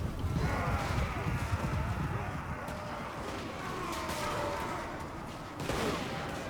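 Point-blank gunfire in a Warhammer multiplayer battle against orcs, a dense rolling volley of shots over a busy low battle din, loud and continuous with a brief burst near the end.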